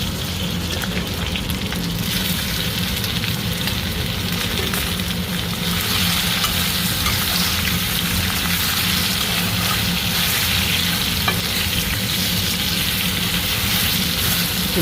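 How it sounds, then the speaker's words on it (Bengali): Already-fried small chuno fish are refried in a pan of oil, producing a loud, continuous, close sizzle with a constant hiss and scattered small crackles throughout. "মাছগুলো আগে থেকে ভাজা ছিল, তা একটু ভেজে নেবো"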